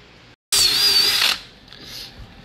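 A short burst of a power drill whirring loudly for under a second while drilling a hole in a car for an LED light kit voltage reducer, then winding down into quieter rattling and mechanical noise.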